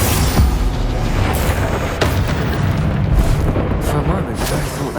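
Rumbling blasts and bursts from spell combat in Hogwarts Legacy, a loud continuous barrage of explosions with a sharp crack near the two-second mark, no voices in the clip.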